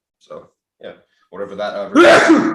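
A single sneeze bursts out near the end, loud and close, right after brief bits of casual talk during a cooking review.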